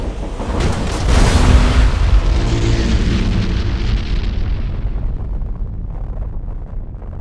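An enemy flagship blows up in the space strategy game Battlefleet Gothic Armada 2, a loud booming explosion that swells after a second into a long rumbling roar, then slowly fades away.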